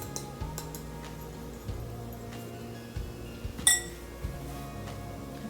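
Salt, turmeric, red chili powder and carom seeds being stirred into whole wheat flour in a bowl for Maharashtrian cilantro dumplings, heard as scattered light clinks and scrapes over a low steady hum, with one sharper clink partway through.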